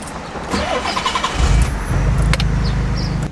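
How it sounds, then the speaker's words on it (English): A twin-turbo Nissan 300ZX race car cranks briefly and fires up, then settles into a loud, close, rumbling idle with a slight blip. "Go ahead and start her up."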